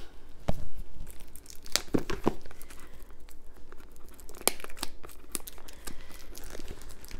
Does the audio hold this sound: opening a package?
yes